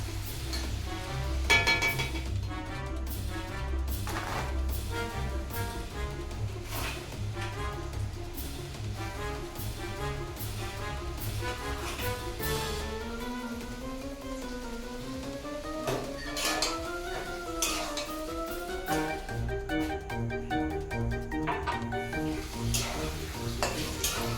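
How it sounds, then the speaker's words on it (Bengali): Nimki snacks fry in hot oil, a steady sizzle running under background music with occasional clinks and stirring knocks from a utensil against the pan. "এই দেখো মোটামুটি নিমকিগুলো সব ভাজা হয়ে এসেছে"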